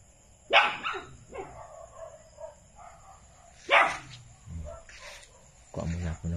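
A dog barks outside at night, with a few separate, fairly distant barks spread across the stretch amid soft background noise and a steady faint tone.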